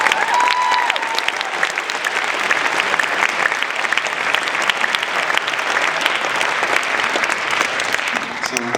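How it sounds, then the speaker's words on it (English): Audience at a children's hospital fundraising event giving a sustained round of applause, dense and steady with many crisp individual claps and a brief tonal whistle or squeal near the start. "So I personally want to give you guys a round of applause."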